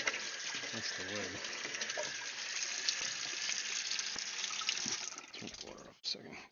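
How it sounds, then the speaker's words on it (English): Water runs from a tap in a steady, even gush for several seconds, with a brief voice murmuring underneath. The flow cuts off near the end. "Turn the water off a second."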